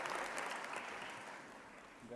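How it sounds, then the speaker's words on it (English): Graduation ceremony crowd applauding a student receiving an award, a broad steady wash of clapping that slowly fades over a couple of seconds. "Give her a round of applause."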